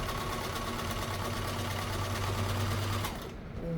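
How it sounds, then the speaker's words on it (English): A Kenmore sewing machine runs in a steady, fast mechanical hum with rhythmic needle ticking, close and continuous, slowing to a stop near the end. "Oh, here we go. It's moving."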